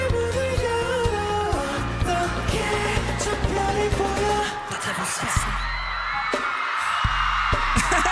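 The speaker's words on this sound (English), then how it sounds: "Do y'all hear the crowd yell whenever he lay down" A large concert crowd at Lollapalooza screams and cheers loudly over loud amplified music from a group performing, a sustained roar with sharper bursts.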